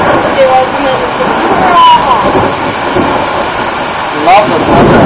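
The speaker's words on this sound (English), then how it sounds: "Love the thunder." Thunderstorm over Perth with steady heavy rain hissing throughout, rumbling thunder building close by, and people talking excitedly over the downpour.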